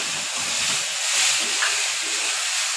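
Ground ginger, garlic, cumin and mustard paste hitting hot oil in an Assamese dish, a loud steady hiss of sizzling that holds for the whole stretch, no voices.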